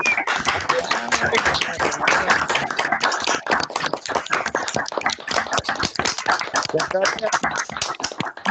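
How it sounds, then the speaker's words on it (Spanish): An audience at a keynote lecture on Bogotá's drainage management applauds an engineer after his presentation, with sustained, evenly dense clapping from many hands that continues for several seconds. "le demos un fuerte aplauso al ingeniero Jorge Holguín por su excelente presentación"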